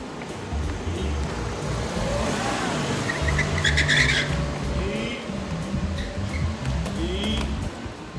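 A car passes on a road while a skater practices spins, a steady engine and tire roar that swells and then fades, with faint squeals and light skate noise.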